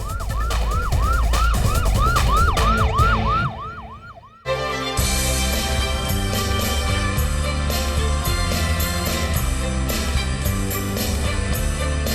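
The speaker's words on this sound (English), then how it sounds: "the unmistakable sound of the ambulance pierces the calm" An ambulance siren wails in a steady repeating yelp, loud and close, then cuts out briefly before a dense, busier stretch of siren and traffic noise resumes for the rest of the clip.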